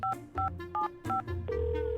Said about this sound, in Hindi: मैं अथर को वापस कॉल कर रहा था।